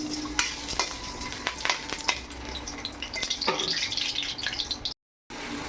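Potatoes frying in hot mustard oil in a wok, giving a dense, continuous close sizzle with occasional stirring knocks, then a brief cut to silence before the frying resumes.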